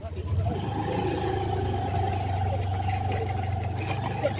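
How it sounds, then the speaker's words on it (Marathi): A car's engine idles and rumbles steadily nearby while it is parked on the road up to Sinhgad fort, a low continuous drone with faint voices in the background. "इथं गाडी लावत आपण."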